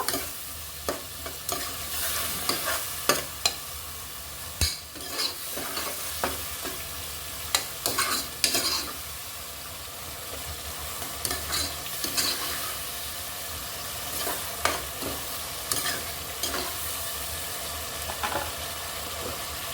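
Bottle gourd curry is sautéed in a pan, with repeated scraping stirs of a spatula over a soft continuous sizzle for about twenty seconds, close and moderately loud, with no talking.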